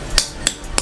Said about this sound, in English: that's the sound of the stones popping